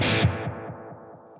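High-gain electric guitar through a Positive Grid Spark amp on its analog-style vintage delay setting: one loud distorted strike, then a train of repeats fading steadily, with no talking.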